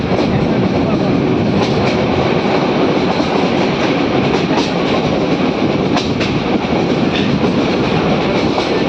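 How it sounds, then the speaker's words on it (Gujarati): A train rolls slowly through the Sasan Gir forest on the line from Gir Gadhada, giving a steady, loud rumble with faint rhythmic clatter of the wheels on the rails throughout. "અહીંયા જંગલ છે એટલે ટ્રેન ધીમી રાખવી પડે"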